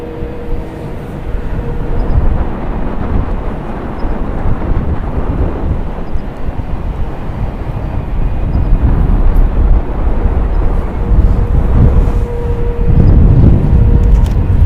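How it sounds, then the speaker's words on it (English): A nine-year-old Air Canada Boeing 787-8 Dreamliner departs San Francisco International, its broad jet roar loud and steady throughout, swelling slightly toward the end with no voices. "Air Canada flight 740 going to be departing to Toronto. It's a Boeing 787-8 Dreamliner,"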